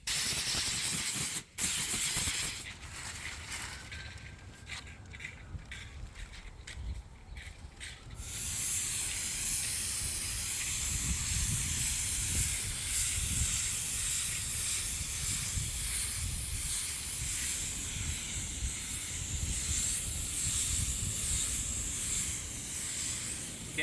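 A spray gun lays white paint onto a Tesla Model Y bumper during a mobile repair, giving a continuous loud airy hiss that starts after a few quieter seconds of bursts and holds steady to the end.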